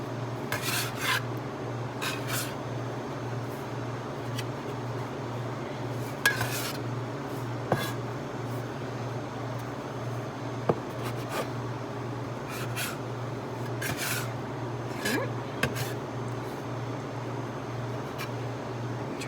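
A floured bench scraper cuts and scrapes dough on a work bench, soft repeated rasping strokes and occasional sharp taps on the surface over a steady low background hum.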